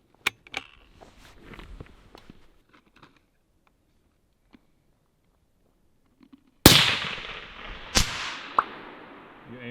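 Two loud, sharp rifle shots fired with premium $78-a-box ammunition at a long-range target, about a second apart, each with a ringing echo, after quiet shuffling and small handling noises.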